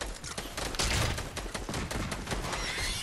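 Gunfire in Fortnite, a dense run of sharp rapid cracks and bursts crowding the whole moment, loud and close with no talk.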